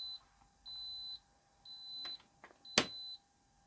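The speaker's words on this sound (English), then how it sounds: "it will still alarm as door being open for too long" LAE LF28 refrigeration controller sounding its door-open alarm during defrost: a series of short, clear electronic beeps, repeated several times with brief gaps, near and alone, plus a couple of small clicks.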